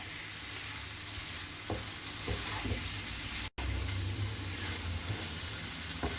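Mutton curry sizzles in a pan as it is stirred, a steady close frying hiss with soft scraping strokes and a brief break partway through, no voices.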